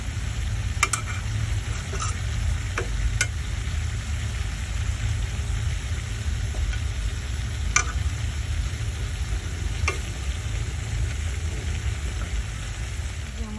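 Food frying in a pan with a steady low sizzle throughout, with a few sharp clinks of a spoon stirring against the metal, close and continuous with no talking.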